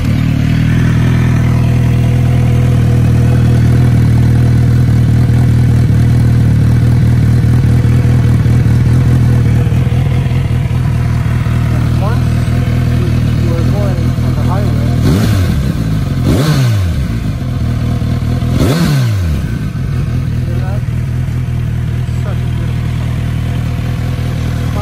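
A Kawasaki Z900RS motorcycle with its factory exhaust rumbles at close range, steady and throaty, then revs sharply twice with rising and falling exhaust roars.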